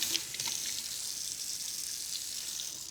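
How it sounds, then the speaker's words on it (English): Canning jars washed in hot soapy water at a kitchen sink, with a steady, close hiss of running tap water and faint clinks, and no talking. "we can wash them with hot soapy water."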